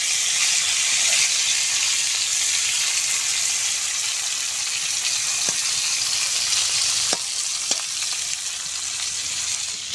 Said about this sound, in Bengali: উচ্ছেগুলো সুন্দর করে ভেজে নেব।